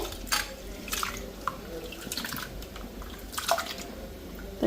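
Rice being rinsed by hand in water, with soft swishing, squishing and intermittent drips and trickles, fairly close and steady with no talking.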